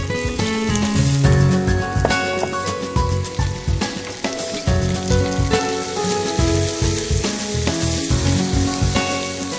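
Chopped onions and whole red chillies fry in hot oil, giving a dense, continuous sizzle with crackling pops and occasional stirring scrapes, close and loud throughout.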